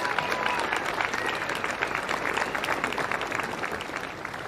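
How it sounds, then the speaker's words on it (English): A crowd at the Rip Curl Pro Bells Beach surfing awards presentation applauds steadily and loudly, with dense, continuous clapping and faint crowd murmur throughout. "Give yourselves a round of applause,"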